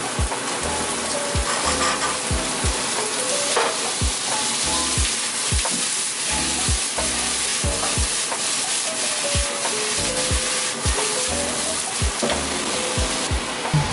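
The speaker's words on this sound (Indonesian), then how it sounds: "siapkan minyak buat numis daun bawang, bawang bombay," Scallions and onion sauté in oil for jjajangmyeon, giving a loud, continuous sizzle with regular rhythmic knocks and scrapes of a spatula stirring in the pan, close up and without talk.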